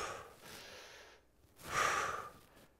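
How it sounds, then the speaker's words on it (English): A person inhales while slowly lowering a resistance band, anchored in a door, during a shoulder press. It starts with a soft breath, and then a louder, sharp intake follows close to the mic near the middle. "Breathing in as I come down."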